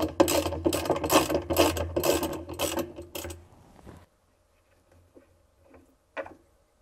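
A ratchet wrench loosens the pulsator bolt on a Samsung washer during clutch assembly replacement, giving about four seconds of rapid, close, steady clicking, then near silence with a few faint knocks and one brief clack.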